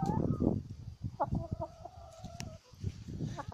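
Chickens in a backyard garden cluck and cackle close by, with a few sharp rising calls among low murmuring clucks while a person talks over them.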